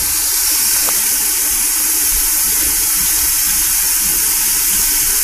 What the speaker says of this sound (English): If you're uncomfortable with putting a baby under a faucet, the sprayer is also good.